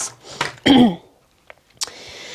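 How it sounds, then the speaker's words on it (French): A single harsh cough bursts out near the mic, followed by a short pause and a few faint clicks and rustles. "En ce moment, je tousse."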